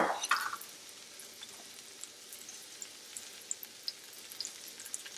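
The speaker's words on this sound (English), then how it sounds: "Some oil's hot. We're going to put our mushrooms in there." Mushrooms dropped into hot oil with a pinch of salt give a loud initial burst of sizzling, settling into a steady quieter crackle with scattered sharp pops and spits.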